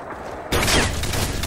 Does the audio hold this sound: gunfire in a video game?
yes